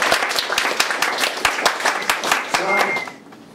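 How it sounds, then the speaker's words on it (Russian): Audience applause at a Russian folk balagan street-theatre show in Astrakhan, a dense burst of many hands clapping loudly with scattered voices mixed in, tapering off near the end. "Аплодисменты."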